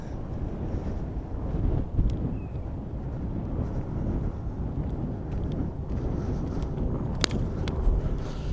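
Wind buffets a microphone outdoors on a chilly day near parked railway maintenance machines, producing steady low rumbling gusts with a few brief knocks.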